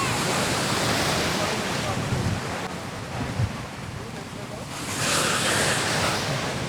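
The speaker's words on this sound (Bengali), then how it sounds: "তো সাউন্ড হয়তো বা শুনতে পারতেছেন সমুদ্রের গর্জন, জাস্ট অসাম।" Ocean waves roar continuously at Saint Martin Island, Bangladesh, with heavy wind buffeting the microphone, a broad rushing surf that swells and eases without pause.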